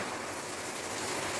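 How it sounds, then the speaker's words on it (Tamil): Steady rain falls outside on a dark morning, a continuous broadband hiss with no clear breaks and no voices. "வெளியே மழை ஜோன் சவுண்டு கேட்குது"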